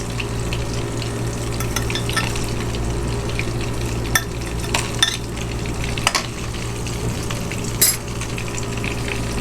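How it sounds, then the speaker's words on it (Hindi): Spices frying in melted butter for white mutton korma make a steady, low sizzle with occasional spoon clinks against the pan. No one speaks. "इनको थोड़ी देर के लिए फ्राई करेंगे।"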